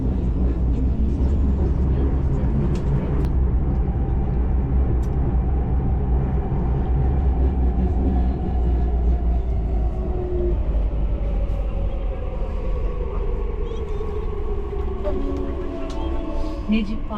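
An Istanbul metro train runs with a steady low rumble and rising motor whine, loud and continuous throughout, with an onboard station announcement voice heard over the noise.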